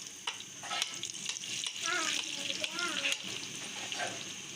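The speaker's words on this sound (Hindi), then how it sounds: "घी गर्म हो गया है, घी में ऐड कर देते हैं जी आलू।" Potatoes frying in hot ghee in a frying pan give a loud, bubbling sizzle with stirring scrapes, close and continuous, with a voice talking faintly underneath.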